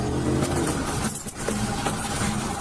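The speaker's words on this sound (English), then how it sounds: "The suspect suddenly accelerated, driving at a crazy speed" A car accelerating hard during a high-speed police chase on a crowded road, a loud continuous engine roar with a brief dip midway, captured close by a dash cam.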